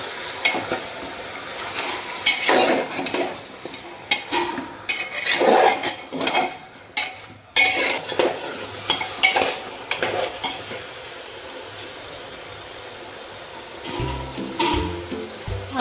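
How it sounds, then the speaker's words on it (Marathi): Chicken is stirred into golden-brown fried onions in a pan, with repeated scraping and clattering strokes over a steady sizzle; the stirring stops near the end, leaving only the quieter frying. "मिक्स करून घेऊया।"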